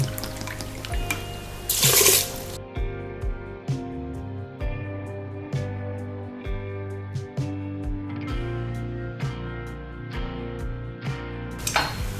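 Hot water poured into a rice cooker pot holding washed rice, a bright splashing gush at the start, then sparse metallic clinks and taps from the pot and utensils nearby.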